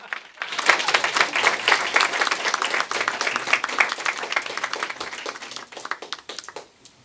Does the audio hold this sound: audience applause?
yes